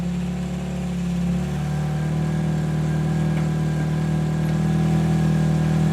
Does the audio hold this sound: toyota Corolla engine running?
yes